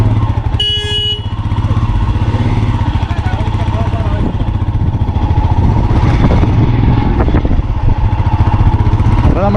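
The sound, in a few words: motorcycles passing at the Atal Tunnel checkpoint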